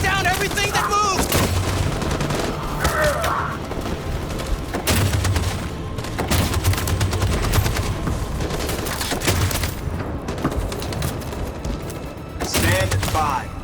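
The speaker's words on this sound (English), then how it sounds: "That machine gun is taking down everything that moves!" Heavy gunfire rolls through a Detroit: Become Human battle, with a machine gun and scattered shots cracking in repeated bursts amid booms. It stays loud and dense for the whole stretch, with voices mixed in underneath.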